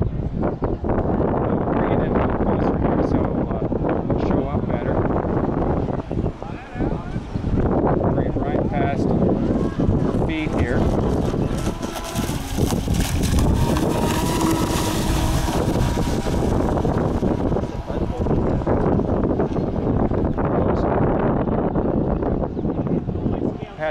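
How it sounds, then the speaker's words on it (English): A Fairey Huntsman 28' radio-controlled model boat powered by an Astro 60 (860-5T) brushless motor on 7 cells running on water, a continuous loud whine buffeted by heavy wind noise throughout. "I want to show you what the Huntsman will do with an Astro 60 brushless motor of 7 cells."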